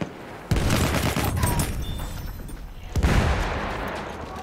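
A Battlefield 1 firefight on the Suez map: two loud cracking shots half a second and three seconds in, each trailing into a long rumbling echo over constant battle noise.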